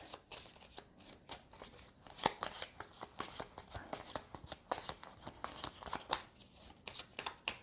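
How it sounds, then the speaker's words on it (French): Cards drawn one after another from a board game deck during a solo Harry Potter Hogwarts Battle game: quiet, close papery slides and flicks in a steady irregular rhythm, with faint speech around them. "Et je vais piocher 5 cartes."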